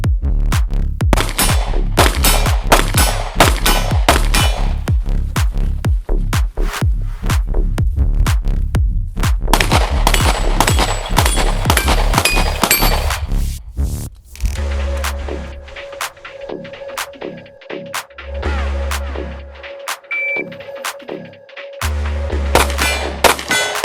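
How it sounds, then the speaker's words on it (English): Gunfire at a shooting drill rings out in loud, rapid strings of shots, followed by sharper cracks answered by metallic clangs as a 6-inch steel plate rack is knocked down at 12 yards, with brief gaps between shots. "taking 5 shots, sprint up to 12 yards, and clean a plate rack"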